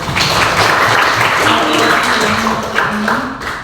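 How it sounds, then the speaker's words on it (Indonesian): Applause from a class fills the classroom, a steady patter of many hands clapping at once, with voices talking faintly underneath. "Ya, tepuk tangan buat."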